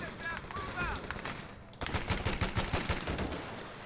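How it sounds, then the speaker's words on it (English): Machine gun fire in the Company of Heroes 3 World War II strategy game, heard as a rapid burst of rattling shots in the second half, close and fairly loud over a busy battle background. "Let's see if we can move the machine gun up in there."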